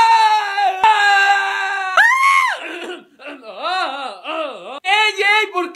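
Several people scream in fright in the dark during a power outage: loud, high, drawn-out cries and wails that rise and fall close by, overlapping with one another and with excited voices.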